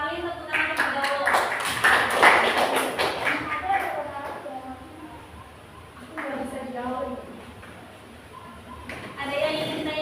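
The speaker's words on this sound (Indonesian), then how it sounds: "Tepuk tangan terlebih dahulu." Applause breaks out in a classroom at once, a dense burst of clapping that peaks in the first few seconds, fades, then flares again, with voices chattering over it.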